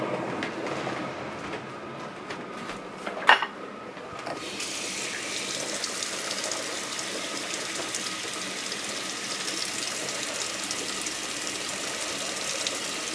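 Tap water running into a canner while making strawberry-blueberry jam, a loud steady rushing gush that rises as the flow opens up after a few seconds of clatter, continuing evenly to the end, no talk.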